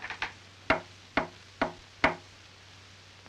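Sharp knocks on a wooden door, two quick soft taps followed by four louder, evenly spaced raps, crisp and close in an otherwise quiet room.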